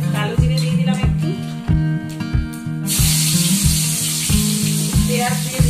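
Black cumin seeds hit hot oil in a pan where fish was just fried. A loud, steady sizzle rises about halfway through and continues over rhythmic background music, with no talking.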